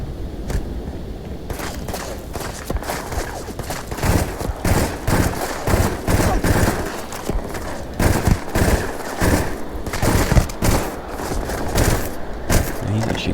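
Rapid continuous gunfire from the Drum Beat weapon in the Starfield video game, a dense stream of loud shots with booming thuds that keeps going for the whole stretch.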